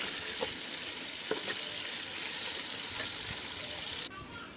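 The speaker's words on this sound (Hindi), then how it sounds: "अब हम इसमें ऐड करेंगे अपना जो मैरिनेटेड चिकन है बोन्स के साथ, वो इसमें ऐड करके आप इसको मिक्स कर लीजिएगा" Marinated bone-in chicken sizzles steadily in a hot pan while being stirred and mixed, a continuous frying hiss with occasional scraping knocks, close and moderately loud, ending abruptly near the end.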